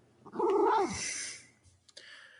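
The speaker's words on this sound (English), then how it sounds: "My cat said no." A single drawn-out cat meow, close and clear, rising and then falling over about half a second before trailing off, followed by faint rustling and a soft click.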